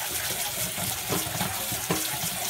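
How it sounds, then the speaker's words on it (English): Vegetables are rinsed under a running kitchen tap, a steady, close splashing rush of water that holds evenly for the whole short stretch without any talk. "Rinse them off as well."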